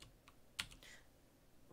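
A few quiet, close keystrokes on a computer keyboard, irregular taps with one sharper click in the middle and another at the end.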